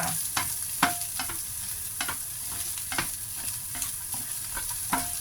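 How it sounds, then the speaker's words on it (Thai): Carrots being stir-fried in a pan, with irregular clicks and scrapes of a utensil stirring over a steady background hiss, close and moderately loud. "แล้วก็ใส่แครอทเข้าไปผัดก่อนจ้า"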